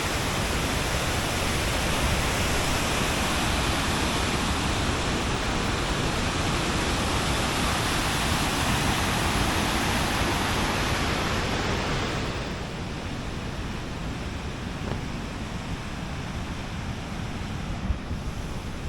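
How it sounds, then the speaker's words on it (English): Waterfalls roar in a steady, loud rush of broadband white-noise water near High Force on a boggy walk, continuous throughout, with wind buffeting the microphone and no speech. "we're going to have a little look at these waterfalls here and see what the view is"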